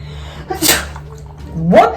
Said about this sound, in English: Did I sneeze?